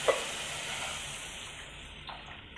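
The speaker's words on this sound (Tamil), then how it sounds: "நம்ம இப்போ குழம்பு ஊற்றிடுவோம்." Hot pan of kalinga mural fish kulambu hissing as the curry gravy goes in, a broad steady sizzle with a small splash at the start that slowly fades over a few seconds.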